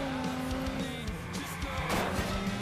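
A car driven across a lawn in the video game Watch Dogs, with a steady engine drone and some tire noise, under faint game sounds.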